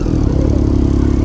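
A motorcycle engine on cold start, a loud close idle with a rapid, slightly uneven throbbing pulse and mechanical clatter through the whole short stretch, with no talk.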